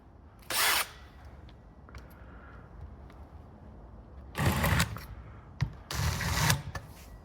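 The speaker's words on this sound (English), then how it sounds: "It's impossible to film and drill." A power drill works on a Shetland 570 boat during fiberglass floor spar repairs: three loud bursts of whirring, about a second each, separated by quieter stretches.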